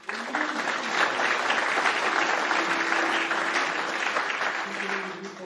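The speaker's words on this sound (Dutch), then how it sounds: "Geef een applaus aan wethouder Dimitri Holthuis-Bangelder." An audience claps for an alderman at a spatial planning event, dense steady applause from a crowd of listeners holding at an even level throughout and easing slightly at the end, with no speech over it.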